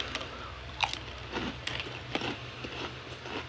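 Crunchy Snoop Dogg Fruity Hoops cereal is chewed close up, a series of soft irregular crunches and bites with no talking.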